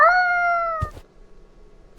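A cat in a video game lets out a single clear, drawn-out meow, followed by a couple of soft clicks and quiet background.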